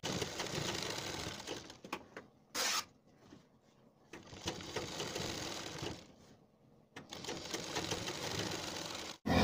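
A sewing machine stitches lace onto the hem of palazzo pants, fast rhythmic needle clatter in three close bursts separated by short quiet pauses.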